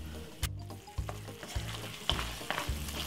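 Bolognese meat sizzles steadily in a frying pan, a close, continuous crackle with periodic stirring scrapes and no voices.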